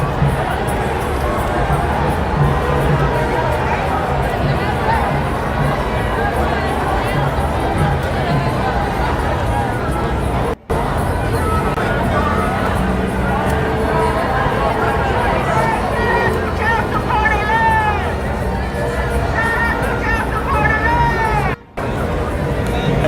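Dense hubbub from a large No Kings protest crowd gathered in front of a building: continuous overlapping chatter, scattered shouts and occasional cheering, close and loud throughout.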